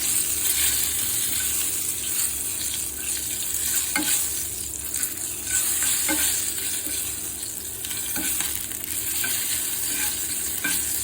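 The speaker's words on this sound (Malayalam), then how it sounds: "2 വറ്റൽമുളക് ഇടുക, ഒരു വറ്റൽമുളക് ഒന്ന് മൂത്ത് വച്ചേക്കാം." Dried red chillies fry in hot oil in a pan with a steady, close hiss and crackle that holds evenly throughout, with a few faint taps of stirring.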